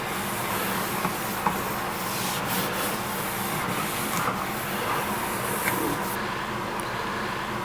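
Mineral oil is rubbed into a wooden cutting board, producing a steady, close, even rubbing and swishing that runs without pause through the whole stretch.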